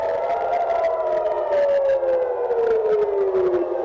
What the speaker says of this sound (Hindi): ये नॉर्थ इजराइल में एयर रेड अलर्ट और सायरन की आवाज सुनते हुए नजर आ रही है।